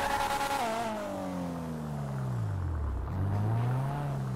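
In the video game GTA 5, a sports car engine drops from a high rev into a low rumble, then climbs again in pitch, loud and close with no voices over it.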